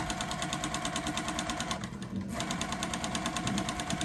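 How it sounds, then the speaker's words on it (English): Sewing machine running with a rackety, rapid mechanical chatter after its bobbin was tightened, a steady rattling hum with a short dip in the middle, no talking. "Now it's making a rackety noise again."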